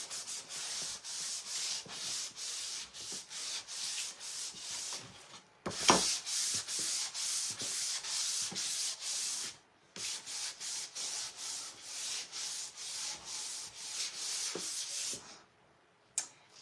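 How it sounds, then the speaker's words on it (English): Hand sanding with 800 grit sandpaper: rapid back-and-forth rasping strokes run in steady rhythmic bursts, close and clear, pausing briefly twice before resuming, with no voice. "800, and I'm just going to sand all of these real quick."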